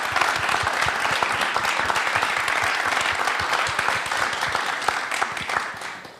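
A church gospel broadcast audience applauds steadily for the team, a dense wash of many hands clapping at an even loudness for several seconds without pause.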